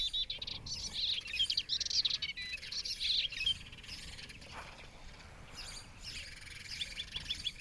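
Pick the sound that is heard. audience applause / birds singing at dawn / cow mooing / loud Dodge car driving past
birds singing at dawn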